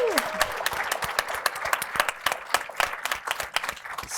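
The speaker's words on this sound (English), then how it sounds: "So can we give them a cheer first?" An audience at a college-presidents conference session applauds, with dense, steady clapping from a sizable crowd throughout, a few cheers, and a brief voice at the start.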